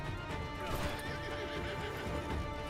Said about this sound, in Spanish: Mira, domar caballos.